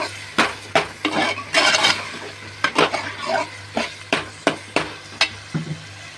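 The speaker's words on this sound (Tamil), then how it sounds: "தக்காளி நல்லா வதங்கட்டும்" Tomatoes sautéing in a pan for a spicy coconut curry, heard as a soft sizzle broken by repeated sharp clinks and scrapes of a spoon against the pan at an uneven rhythm.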